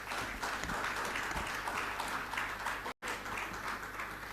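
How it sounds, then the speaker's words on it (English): An audience at a Ghanaian presidential business pitch event breaks into a steady, dense round of applause that holds evenly throughout, broken only by a split-second dropout. "Please give yourselves a resounding round of applause."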